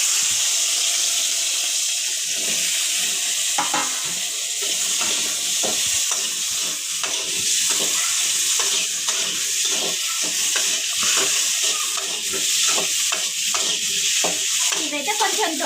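Washed, cut okra hits hot oil in a pan with a steady, bright sizzle throughout, broken by scraping and stirring clatter close by.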